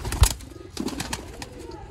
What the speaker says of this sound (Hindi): ये लाल अख दे कबूतर